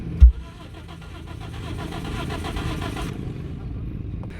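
A Toyota Corolla that cranks but won't start, its starter turning the engine over in a rapid steady chugging for about three seconds after a click, close by, without catching.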